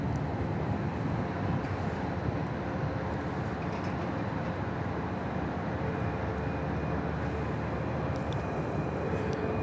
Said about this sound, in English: There's a tri-jet there, not the kind we're accustomed to seeing over at UPS.